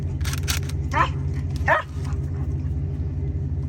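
A dog gives two short yips or barks close by, heard over a steady low rumble of engine or machinery noise.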